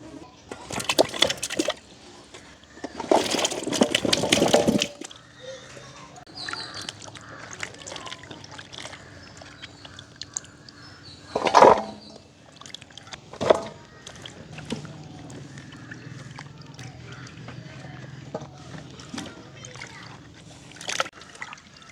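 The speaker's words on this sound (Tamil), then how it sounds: "இப்போ பார்த்திங்கன்னா மிளகறியெல்லாம் துப்புரவாக்கி எடுத்துட்டேன் கழுவி எடுப்பேன்" Cut vegetables for a village-style vegetable biryani are swished and splashed in a vessel of water, with a few loud splashing bursts early on, then quieter intermittent trickles and clinks up close.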